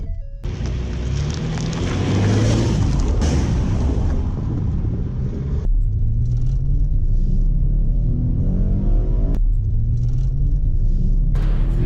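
Car engine rumbling loudly and continuously on a short test drive, a deep steady drone with road and wind roar at close range and a couple of abrupt shifts in tone.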